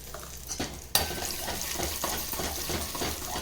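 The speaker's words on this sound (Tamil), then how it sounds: "இதில் கடுகு போட்டு மூடி வச்சுருங்க. கடுகு பொரியட்டும்." Mustard seeds frying in hot oil inside a covered pan, with a steady sizzle and a sudden louder burst of crackling partway through, close and continuous.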